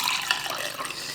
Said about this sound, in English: some in a glass here